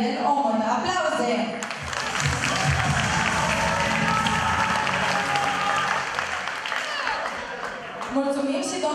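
Sustained, dense applause from a large audience fills a school ball hall, steady and loud throughout with some crowd noise mixed in.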